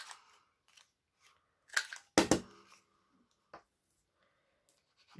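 Scissors snip the corners of a strip of gold paper while scrapbooking: a handful of sharp, close, isolated clicks and cuts, with two louder crisp snaps near the middle and quiet pauses between.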